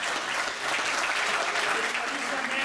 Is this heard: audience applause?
yes